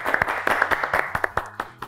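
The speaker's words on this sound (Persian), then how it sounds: "و تشویق کنین" A studio audience on a quiz show claps briefly, quick uneven hand claps forming a short, moderately loud burst of applause that fades after a couple of seconds.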